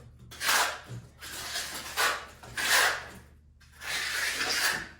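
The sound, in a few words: trowel feathering base coat plaster over old cement ridge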